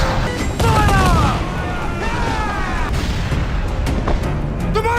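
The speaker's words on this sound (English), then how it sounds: "Man the cannons!" Ship cannons fire in a naval battle in Assassin's Creed 4 Black Flag. The booms are loud and rumbling, with a crashing impact early on, over a thick battle din. Voices cut through the noise at times.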